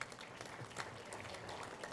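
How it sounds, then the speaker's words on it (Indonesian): Audience clapping in an indoor forum hall in Polewali Mandar, a steady, dense wash of applause for a speaker, fairly distant and even throughout with no voices standing out. "Tepuk tangan dulu untuk sahabat saya"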